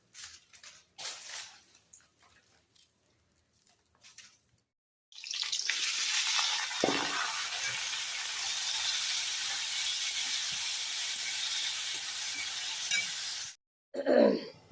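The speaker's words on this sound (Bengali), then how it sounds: "মেয়ের টিফিনের আলু ভাজি" Potato bhaji sizzling loudly in a home kitchen pan, cooked as a girl's school tiffin alongside paratha and homemade ghee; a steady, close, broadband frying hiss holds for several seconds after quieter clatter, then cuts off.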